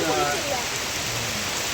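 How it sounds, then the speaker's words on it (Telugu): Heavy rain falls at Athirapilly waterfalls in Kerala, a dense, loud downpour hissing steadily, with faint voice traces near the start. "వర్షం అయితే చాలా పెద్ద వర్షం పడుతుందండి"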